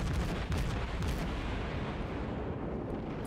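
Main guns of the Hindenburg cruiser fire during World of Warships gameplay against a Baltimore, giving a heavy, booming roar that rolls into a dense, sustained rumble of naval battle noise, loud and without speech.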